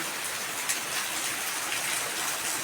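Heavy, sudden May rain in rural Konkan pouring down steadily, a dense loud hiss of drops on surfaces filling the whole moment without any voices.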